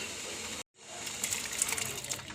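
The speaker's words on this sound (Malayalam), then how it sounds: "അപ്പോൾ അരി കഴുകിയിടാം" Water gushes and splashes as soaked rice is rinsed for Thalassery dum biryani. The steady pouring breaks off for a moment, then returns with bubbly, sloshing sounds close by.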